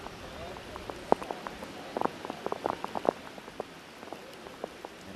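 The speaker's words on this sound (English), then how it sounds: "the heavy, heavy rain here in San Cristobal" Heavy rain pelts a football pitch in San Cristobal during a Concacaf Women's Under-20 match, Canada against St. Kitts and Nevis, with scattered sharp drop impacts over a steady hiss; faint crowd or commentary murmur sits underneath.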